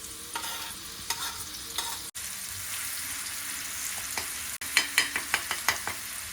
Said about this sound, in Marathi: आता तेल इकडे फ्राय होणार आहे तेल गरम झालं